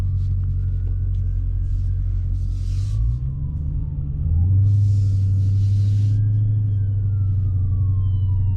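A 2020 Dodge Challenger Scat Pack Widebody rumbles with a deep, loud, continuous engine drone while driving, briefly dipping then swelling as the revs climb, with faint road and wind noise around it.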